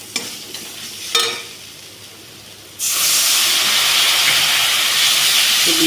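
Soybeans frying in a pan with turmeric, stirred lightly, then a sudden loud, steady sizzle and hiss bursts up as a little water is poured in and keeps going strongly.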